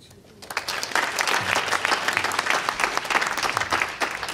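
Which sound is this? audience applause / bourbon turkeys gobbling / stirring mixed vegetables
audience applause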